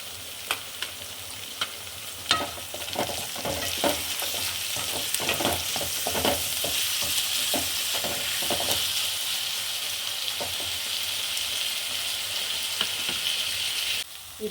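Tomatoes with salt frying alongside garlic and onion in a pan for a tuna fish fry, a steady close sizzle with a run of stirring scrapes and clatters through the middle, no talking.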